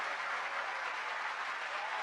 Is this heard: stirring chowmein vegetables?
no